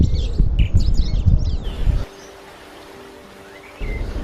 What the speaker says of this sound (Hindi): जो आवाज़ें सुनाई देती है वो है पक्षियों की आवाज़ें।